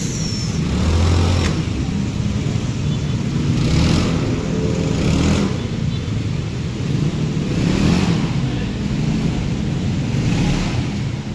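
A Yamaha Mio Smile scooter with a 130cc bored-up engine runs steadily nearby, a continuous low engine drone with mild swells in revs and no talking.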